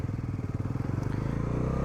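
A Bajaj Pulsar NS400Z motorcycle engine idles just after starting, with a close, steady, rapid low thumping pulse that smooths slightly toward the end.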